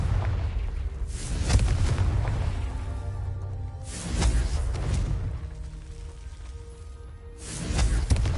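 Confringo spell explosions in Hogwarts Legacy, three heavy booming blasts spaced a few seconds apart, each swelling loudly then rumbling away under low, steady background noise.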